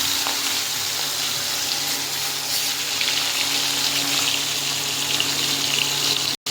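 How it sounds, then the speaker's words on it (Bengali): Hilsa fish frying lightly in hot oil, a steady broadband sizzle that holds at an even level throughout and cuts off abruptly near the end, with no talking. "এবার মাছটাকে হালকা করে ভেজে নেব, কারণ এটা তো ভাপা না, তাই একটু হালকা ভাজলে ভালো লাগবে।"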